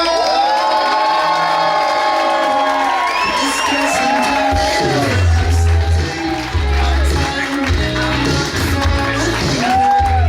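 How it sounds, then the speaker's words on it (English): A loud stand-up comedy audience cheers and whoops with shouts rising over a dense roar, continuous and close, building in intensity. "a warm round of applause for Mr. Mike Yarnall!"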